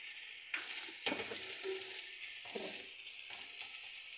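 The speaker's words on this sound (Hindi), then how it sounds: "इसमें ये लहसुन अदरक डाल देंगे, थोड़ा भुनेंगे" Garlic and ginger fry in a pan with a quiet, steady hiss, while several spoon strokes stir and scrape at intervals.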